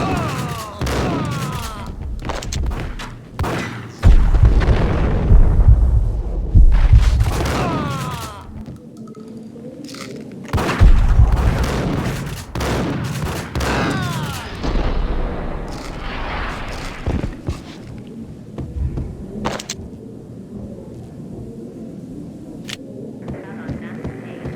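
Gunfire and explosions in Max Payne, with bursts of shots and heavy booms coming in waves, loud up close and then fading to rumbling, under occasional voices talking.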